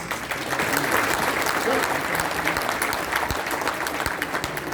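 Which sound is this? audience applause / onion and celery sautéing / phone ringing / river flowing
audience applause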